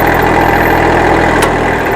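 Kubota L225 tractor engine idles steadily, a loud, close, continuous diesel drone with an even low throb and no speech.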